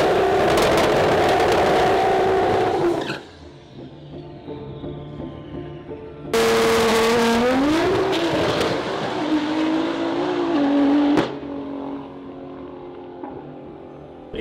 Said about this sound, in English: just done the first run, mastered the burnout, that was pretty cool